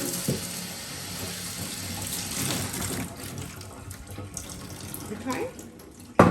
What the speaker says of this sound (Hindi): तो इसको फौरन से धो लेना है, अगर धोएंगे नहीं तो ब्लीच उधर भी सीप कर जाएगा।